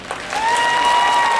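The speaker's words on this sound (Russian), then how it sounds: "Аплодисменты" Audience applause erupts at a J-Rock fashion show, swelling quickly from a few claps into a full, sustained round of clapping.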